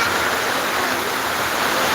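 Heavy rain falls in a dense, even hiss that stays steady and unbroken from start to finish, with no voices over it.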